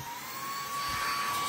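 A Lu Blue Lu cordless vacuum cleaner running on medium suction, a steady close whine with a high tonal hum, rising slightly in intensity.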